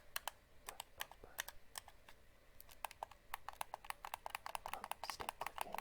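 Bumper buttons on a PS5 DualSense game controller click in a quick, irregular run of sharp, close, quiet taps with no talking.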